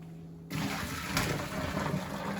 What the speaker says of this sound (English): then we'll dump it out into the sink and rinse them off